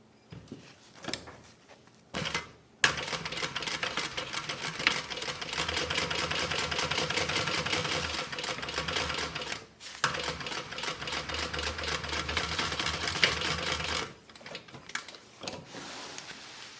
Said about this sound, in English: we're going to sew this on